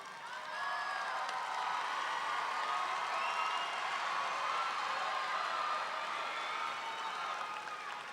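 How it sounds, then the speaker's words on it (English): A large crowd at an Albany State University spring commencement claps and cheers in a continuous, even wash of applause, heard somewhat distant in a big hall. "give the members of the Albany State University family and members of your family the applause they so richly deserve"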